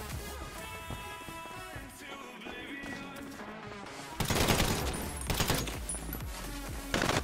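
Gunfire, including shotgun blasts, erupts during a heist in the GTA video game: a muffled, busy game scene first, then a loud volley of rapid shots that cuts off, followed by another burst at the end.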